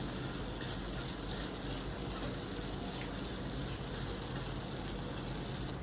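Vegetable masala for a black val bean curry frying in hot oil gives a steady, close, continuous sizzle, with no speech over it.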